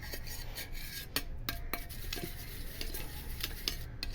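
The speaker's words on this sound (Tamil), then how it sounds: "அதனால் நல்லா இந்த மாதிரி கலக்கிக்கணும்" Spoon scraping and stirring thick milk cream (malai) face mask paste in a small bowl, a steady close rasping and clinking with repeated sharp taps against the rim, no talking.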